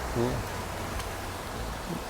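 Steady rain falling at an old temple in Thailand, a soft continuous hiss of drops with a brief voice-like sound near the start.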